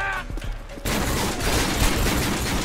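Gunfire from the militia in Call of Duty Modern Warfare 2 starts with scattered shots, then becomes a sudden heavy, continuous burst of rattling fire that stays loud and dense to the end.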